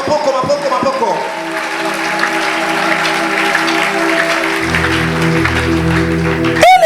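A church congregation at a French-language service bursts into applause and cheering for Jesus, loud and sustained clapping from a crowd, with a voice and sustained organ or keyboard tones underneath.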